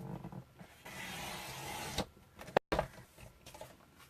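A paper trimmer slides across cardstock during a stamping craft session, a scraping glide followed by sharp clicks and knocks as the blade and guide are handled.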